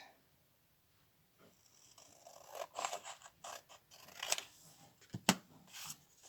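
Scissors cut paper for a junk journal in quiet, close snips and crisp slicing strokes, several in an uneven rhythm after a short silence.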